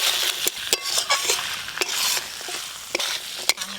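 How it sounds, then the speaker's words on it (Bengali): Fried potatoes and fried crab being stirred into a sizzling spice masala in a pan, with a steady frying hiss broken by sharp scrapes and knocks of the spoon, close up and with no talking. "এবার আমি ভেজে রাখা আলু আর ভেজে রাখা কাঁকড়া দিয়ে দেব"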